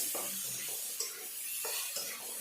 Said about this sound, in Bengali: আলুগুলো ভাজবো,